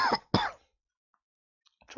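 Two quick, harsh coughs come in close succession, followed by near silence and then a faint stir of breath at the end.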